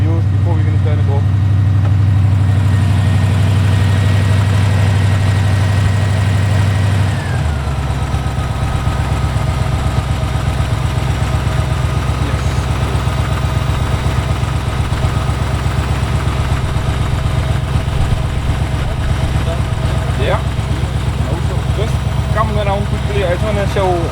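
A Ford Escort engine idles in its bay with a loud, steady low rumble that settles into a slightly different, even tone after a few seconds, while a person speaks over it.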